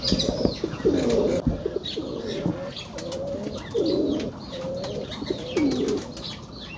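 Pigeons of many breeds coo repeatedly in a pigeon loft, with low rolling calls recurring every second or so, brief wing flaps and faint chirps around them.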